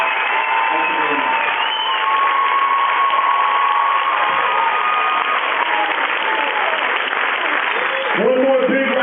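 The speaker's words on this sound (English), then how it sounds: "One more big round of applause," Sustained audience applause for Captain Paul Watson at an event with a silent auction, dense clapping throughout with some crowd voices mixed in and speech emerging near the end.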